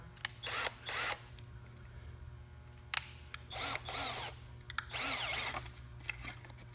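A power drill drives wood screws into wood, several short whirring bursts of about half a second each with pauses and a sharp click between them, close and clear over a low steady hum.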